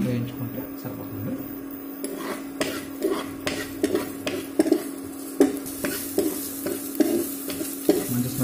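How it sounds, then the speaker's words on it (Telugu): Ginger pieces fry in a kadai with a constant sizzle as a metal spoon scrapes and clinks against the pan in repeated strokes. A low hum runs underneath, and there is no talk. "ఇదే కడాయిలో మనం అల్లం ముక్కలు వేస్తాము"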